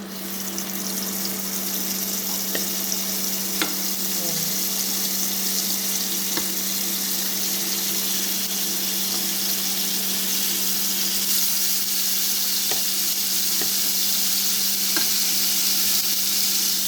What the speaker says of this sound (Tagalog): I-fry lang natin siya ng konti na mag-dark brown.